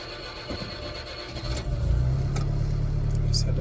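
A Citroen DS that has sat unused for months cranks and then catches, its engine rising into a steady, loud idle rumble close by after some faint rattling and clicks.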